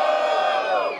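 A rap battle crowd roars and whoops in a loud, sustained burst for MC Flavinho after the third round of a first-phase duo battle, shouting voices blending into one dense cheer.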